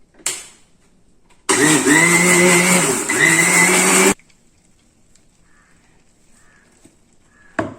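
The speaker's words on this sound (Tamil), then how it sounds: "மிக்சி ஜார்ல போட்டுக்கலாம்" A mixer grinder jar blending durva grass with a piece of ginger for juice runs loud and steady for about three seconds, with a brief pitch dip midway, between quiet stretches.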